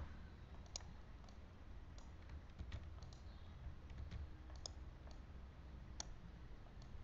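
Light, irregular computer keyboard typing as data is entered into an Excel spreadsheet, a run of soft close clicks and key taps over a low steady room hum, fairly quiet throughout.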